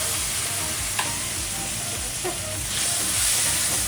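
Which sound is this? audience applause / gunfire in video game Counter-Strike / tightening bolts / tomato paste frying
tomato paste frying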